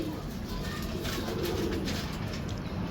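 Several pigeons, a gift sent from Karachi, coo softly and repeatedly in a low murmuring chorus close by. A constant background hum runs underneath, and there is no talking.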